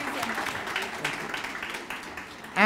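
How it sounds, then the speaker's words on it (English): School audience clapping in a hall, a dense, even round of applause that carries on steadily before a voice cuts in at the end. "Give her a nice big round of applause"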